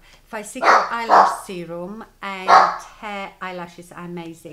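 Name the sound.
dog barking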